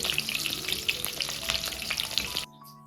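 Stuffed eggplant fries in oil in a pan, with a loud, close sizzle and scraping stirring strokes that stop abruptly near the end, leaving quiet hum.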